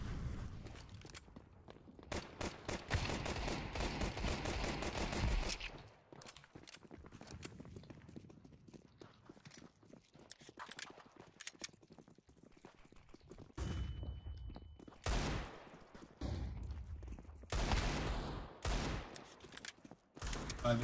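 Rapid bursts of gunfire in Counter-Strike 2, with dense volleys of shots and short clusters of single shots separated by quieter gaps, loud and close.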